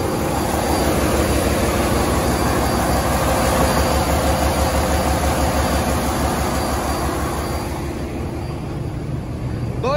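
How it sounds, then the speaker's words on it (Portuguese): A 2,000-horsepower ferry engine on the Amazon River heading toward Manaus runs as a loud, steady diesel drone with a fast rhythmic pulse, close by and continuous throughout, with no talk. "Vou mostrar o motor pra vocês."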